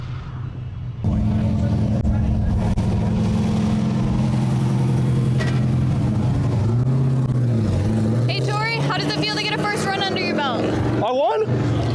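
Ford Mustang with a Windsor V8 engine on a drift run at a speedway, a steady loud engine drone that holds for most of the clip and rises into higher revving whines near the end, with voices talking over it.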